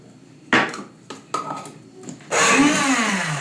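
A blender whirs as it mixes square sausage mixture with spices and breadcrumbs, a few short pulses first, then a steady, loud continuous blend.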